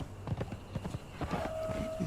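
A horse walks in the game Conan Exiles, its hooves clip-clopping in a steady, quiet rhythm, with a faint tone and brief sounds in the background.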